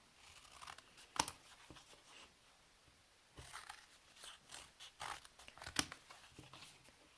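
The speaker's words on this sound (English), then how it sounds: "each piece you're going to separate like each side of the box and cut off those little tabs" Scissors cut the small tabs off the sides of a cardboard box, producing faint, close snips and tearing crinkles in two bursts separated by a quiet pause.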